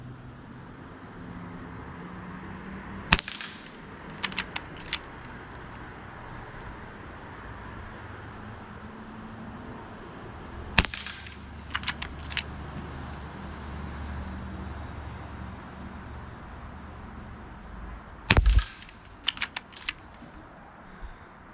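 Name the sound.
Gamo Arrow Classic .22 air rifle shooting pellets at targets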